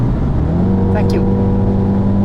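A BMW X2 M35i at high speed on a road, its engine droning steadily and loudly as it accelerates, with a brief rising whine around a gear shift midway; a voice speaks over it.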